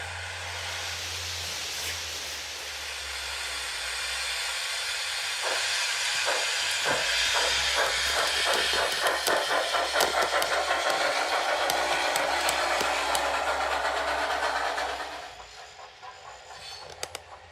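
A ScaleTrains N scale model passenger train runs with a steady hiss and rumble, then a quick run of rhythmic clicking wheels before the noise drops away near the end.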